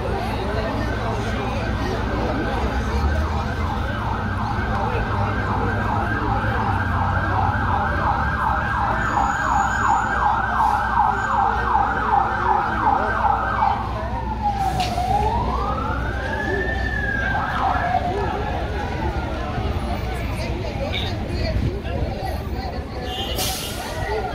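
Fire engine sirens wail as firefighters arrive at a blaze in a historic town centre across from a park; a loud rising-and-falling siren sweeps over traffic and crowd noise, with voices talking throughout.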